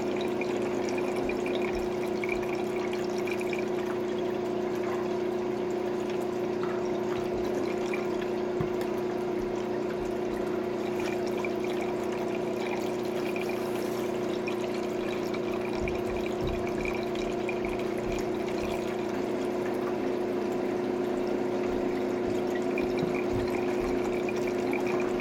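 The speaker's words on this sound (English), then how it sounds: "A lot of water in this thing, so I'm trying to take some of it out." A pump drawing water out of an e-banker sluice, a constant motorized hum with steady watery gurgling and trickling that carries on unbroken throughout.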